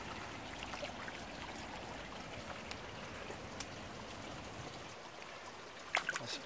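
Water trickling and splashing into a river, a faint, continuous outdoor trickle with a few small splashes near the end.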